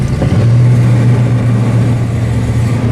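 A 1979 AMC AMX or 1970 Pontiac LeMans engine idling steadily after stalling on a road trip, a loud, close, continuous low rumble with no talk over it.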